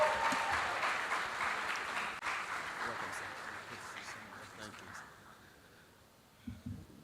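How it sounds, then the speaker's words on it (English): An audience at the Hackaholics 5.0 grand finale claps for a speaker. The applause is fairly faint and steady at first, then thins out and fades, and a few scattered claps and room noise close the clip. "Keep clapping, come on."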